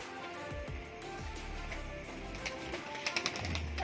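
Faint satinette pigeons coo softly in a quiet space, with a few light taps and rustles near the end.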